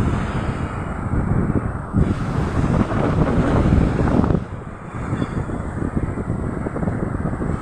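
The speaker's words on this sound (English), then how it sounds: "The wind is blowing." Strong wind gusting across a beach, buffeting the microphone in a loud, continuous roar with surf rumbling underneath.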